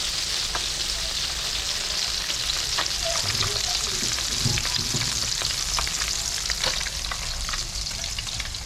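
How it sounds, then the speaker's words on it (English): A largemouth bass fillet sizzles steadily in hot, shallow frying oil, with a constant hiss and scattered sharp crackles and pops, close up and fairly loud. "We want to hear that filet sizzling."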